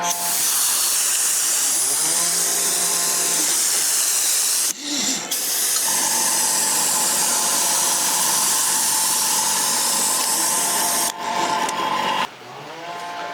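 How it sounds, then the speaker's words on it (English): Airbrush with a wide head spraying black primer outdoors onto 1/6 scale Panzer IV tank tracks, a loud continuous hiss running nearly throughout, with two short breaks and a faint rubbing sound under it. "I've got the wide head on the airbrush, so it covers really well."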